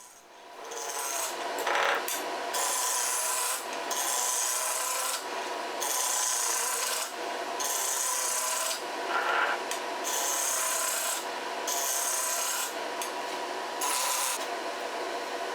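Wooden blank spun round on a lathe for a snowman tea light holder, a bright, loud rasping cut that repeats in bursts with short pauses between passes, close up and without talk.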